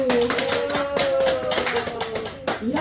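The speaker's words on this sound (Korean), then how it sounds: "감사합니다. 박수." An audience at a Buddhist dharma lecture breaks into loud, fairly close hand clapping, a quick irregular patter of claps layered over a sustained tonal hum and a voice.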